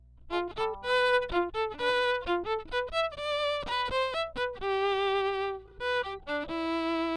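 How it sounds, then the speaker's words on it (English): An electric violin is played with no effects: a close, clean run of bright bowed notes, some short and detached, some held, moving quickly through a melodic phrase with no other sounds. "That is the sound of my electric violin,"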